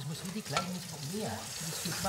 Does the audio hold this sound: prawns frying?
yes